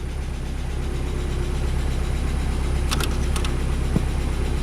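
A 1990 Mazda Miata engine keeps idling steadily instead of stalling, a constant close mid-pitched hum with a brief metallic jingle of keys near the end.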